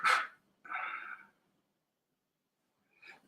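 Dogs barking outside in a rural spot, three short bursts: a sharp bark, a longer rough bark, then a fainter one after a pause, moderately close with no talking.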